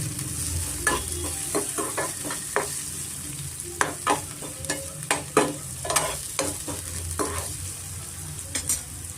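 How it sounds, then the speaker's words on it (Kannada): Onion and green chili with turmeric fry in a pan, giving a steady sizzle broken by repeated scraping and clacking strokes of a stirring spoon, close and fairly loud. "ಈರುಳ್ಳಿ ಹಸಿಮೆಣಸಿನ್ಕಾಯಿ ಸ್ವಲ್ಪ ಫ್ರೈ ಆಗಿದೆ"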